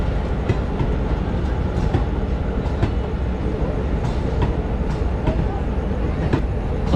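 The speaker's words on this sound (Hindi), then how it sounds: "अभी आप सामने देख सकते हैं ये जा रही है दानापुर इंटरसिटी" A Danapur Intercity passenger train runs past at Jamalpur Junction, a loud steady rumble of wheels on rails with rhythmic clickety-clack joint beats throughout, close by and continuous.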